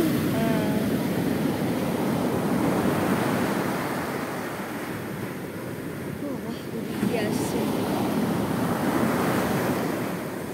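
Sea waves crash and roll in a continuous, loud surf roar mixed with gusting wind, swelling and easing slightly over about ten seconds.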